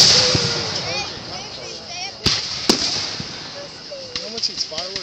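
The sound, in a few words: fireworks display exploding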